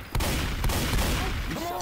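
Gunfire in the Left 4 Dead 2 video game: a steady loud barrage of shots fills the clip, with brief louder bursts and a few rising tonal sweeps near the end.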